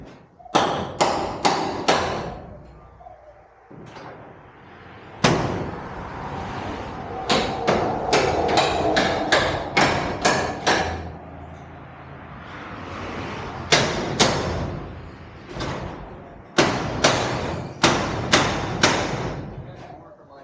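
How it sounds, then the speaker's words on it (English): Hammering on a Corvette intake being fitted to a Camaro LT1 engine: loud, sharp metallic blows in quick bursts of several strikes, separated by pauses, close by with some faint talk between. "Let me get a bigger hammer."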